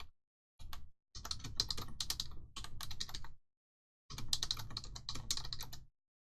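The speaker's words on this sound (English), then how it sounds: "let me just type something to the chat" Typing on a computer keyboard in two long bursts of quick, dense keystrokes with a pause between, close and clear, with no talking.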